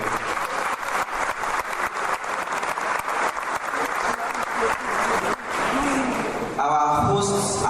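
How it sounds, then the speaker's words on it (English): A reception audience at an African fashion event in Paris claps in dense, continuous applause that fades into a brief bit of crowd chatter near the end. "Please a round of applause for him."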